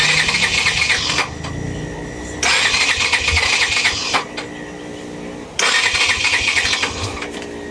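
A Yamaha FZi 150 motorcycle that will not start: the starter motor cranks loudly in three long bursts separated by short pauses, close up, and the engine never catches, with no talk.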